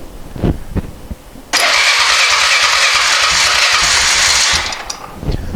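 A Polaris 425 ATV that sat unused for three years cranks over with a loud, steady whirring churn lasting about three seconds, with a few faint knocks before and after.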